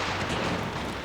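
Heavy battleship guns firing in World of Warships, a loud continuous rumbling roar of shell fire and booms filling the whole moment.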